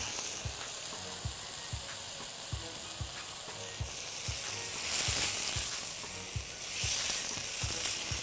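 Shallots sizzle in a pan for chana bhaji, a steady frying hiss with regular soft taps of stirring and two louder surges of sizzle partway through.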